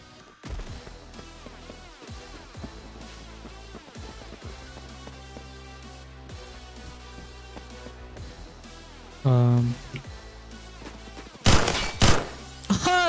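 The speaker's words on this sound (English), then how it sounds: "shot that dude through the freaking wall" Rapid gunfire from a G11K2 rifle in the Roblox shooter Phantom Forces, with repeated sharp shots over game music and a louder burst of impacts near the end.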